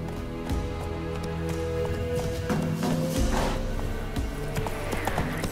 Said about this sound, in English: When you're outside, you can always whistle to call a horse.